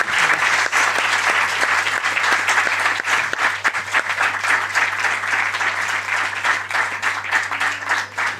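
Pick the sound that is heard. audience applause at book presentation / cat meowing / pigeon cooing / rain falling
audience applause at book presentation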